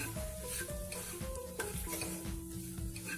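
Egg bhurji with chopped coriander is stirred in a hot pan, with a spatula scraping and clinking against the metal over a soft, steady sizzle, close up and without talk.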